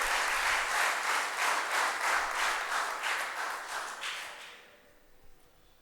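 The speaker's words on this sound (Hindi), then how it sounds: "एक बार जोरदार तालियों के माध्यम से" An audience claps loudly in welcome for an arriving guest at a memorial yajna ceremony, steady dense applause lasting about four seconds before fading away to quiet.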